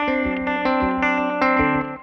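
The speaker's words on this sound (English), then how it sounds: "I run into the El Capistan, which is their tape delay pedal." Electric guitar run through a Strymon El Capistan tape delay pedal set to slapback: a quick run of plucked notes, each picked attack crisp with a short echo trailing it, bright and close, ringing out at the end.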